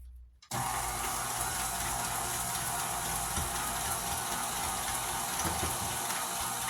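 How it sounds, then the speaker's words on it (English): Electric mixer creaming butter and sugar for a ginger pound cake, switching on abruptly and then running as a steady, loud whirring drone with a faint scraping rattle, no voices. "So I'm going to cream the butter and the sugar together."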